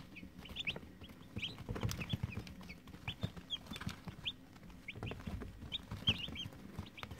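Cobb 500 broiler day-old chicks in a brooder peep and cheep in quick, scattered bursts, with light rustling and clucking, nearby and fairly quiet, without talking.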